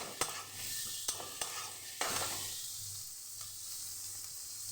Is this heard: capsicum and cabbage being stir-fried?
yes